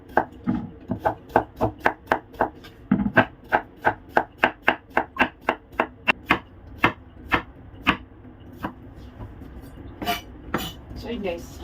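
A knife chops cucumber on a board in a steady run of crisp, close strikes, roughly two or three per second, then slows into sparser, uneven cuts near the end.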